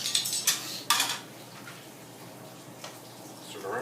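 A metal utensil stirs meatballs in a cooking pan, giving a few sharp clinks and scrapes near the start before fading into soft, quiet shuffling with a final light scrape.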